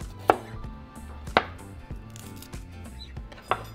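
A knife cuts the stems off broccoli florets, making three sharp chops against a board, spaced about a second apart, close and moderately loud with quiet handling in between.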